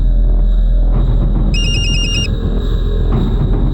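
A phone rings in a tense domestic scene: one short burst of rapid, pulsing electronic ringing cuts in over a steady low background hum, then stops.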